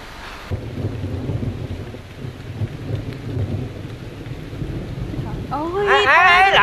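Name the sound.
heavy rain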